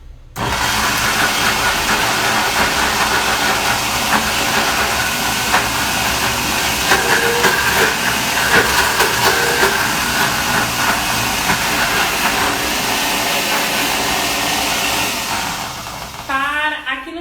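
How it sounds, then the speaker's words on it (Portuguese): A kitchen blender purees pumpkin with garlic and a pinch of salt, a loud, steady roaring whir that runs unbroken for most of the stretch before cutting off near the end. "a gente não consegue ir ajudando o liquidificador enquanto ele tá ligado"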